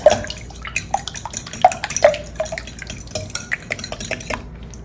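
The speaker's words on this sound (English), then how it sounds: "Now we're gonna break up those egg yolks, throw oil all over the island." Utensil clinking and scraping in a bowl while egg yolks are broken up and mixed with oil for zucchini bread, a run of sharp close taps and stirring with a wet edge, no talk.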